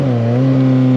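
A Suzuki GSX 750 motorcycle engine revs hard and accelerates at close range, a loud, steady, rising drone with strong low harmonics and no talk over it.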